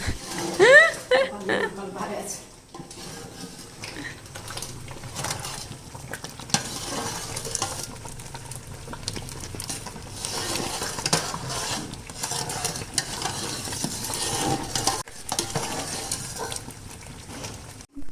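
Jaggery (bheli) cooking down in a pan is stirred steadily, giving a continuous soft scraping and sizzling texture under ongoing talk throughout.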